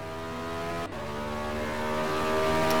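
Race car engine from a GTE Series sim-racing round at Montréal, a steady high whine with a single brief gear-change dip, growing slightly louder as the car drives on.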